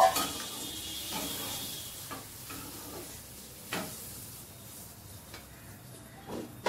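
Vegetables, including radish, sizzle in a pan as water is poured in, with steady frying hiss and several sharp spatula scrapes and stirs against the pan, close and fairly quiet.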